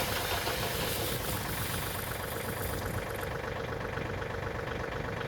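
A tractor engine runs steadily nearby, a dense continuous rumble with a rattling, knocking texture and no voices.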